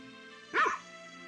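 A single short dog bark from the Harvest Moon video game, sharp and clear over a quiet tonal game music background.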